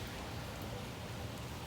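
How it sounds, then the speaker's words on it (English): Steady rain falls on a rainy California day while a spark plug job is done on a 2010 Mercedes S550, a soft, even hiss of drops with no other sound standing out over the short stretch. "It's a rainy day in California."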